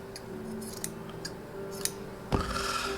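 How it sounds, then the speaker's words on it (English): Scissors snip off extra quilting thread at a spool. Faint light ticks come first, then one sharp close cut near the end, with no speech. "I can go ahead and cut off this extra portion that I don't need"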